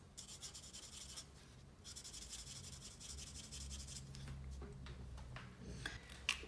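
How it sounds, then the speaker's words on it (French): A felt-tip marker rubs and scratches across paper in short repeated strokes, quiet and close, with brief pauses between bursts of colouring. "Donc on va tout colorier en mauve."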